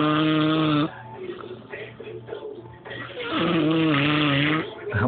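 A man snoring in his sleep, loud harmonic rasping snores at the start and again later with a softer breathing stretch between, close to the listener.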